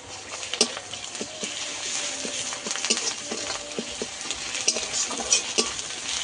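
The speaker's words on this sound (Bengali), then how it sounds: "পেঁয়াজটা ঠিক আমি এইভাবে ভেজে নিয়েছি" Onions frying in a pan for a spicy fish curry, a close continuous sizzle broken by frequent stirring clicks and scrapes, with no one speaking.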